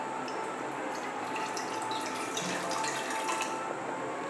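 Water poured into a vessel on the stove while cooking banana stem kootu, a soft continuous splashing and trickle heard alone at low level.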